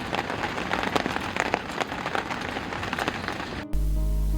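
Rain falls in the forest of Tadoba Andhari Tiger Reserve as a dense, steady patter of drops on surfaces, fairly close. It stops abruptly and gives way to a low hum.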